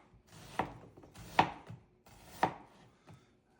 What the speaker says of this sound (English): We're going to prepare a bed of sliced onions.